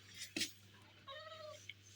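A cat meows twice, the second call longer and drawn out, fairly close, over a low steady hum.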